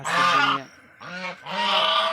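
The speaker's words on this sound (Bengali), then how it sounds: "বাহ হাস খুব সুন্দর তো" Three loud, nasal honks from ducks in the Sundarbans, close by, with short pauses between them.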